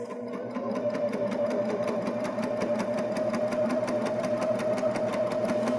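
A Baby Lock Jazz II sewing machine stitches a buttonhole, a fast, even whirring clatter of the needle running continuously and close up after a brief quieter start.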